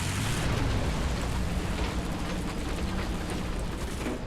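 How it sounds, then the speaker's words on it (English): Steady, dense broadband rush of heavy rain, loud and continuous, with a low rumbling undertone throughout. "It's starting to rain."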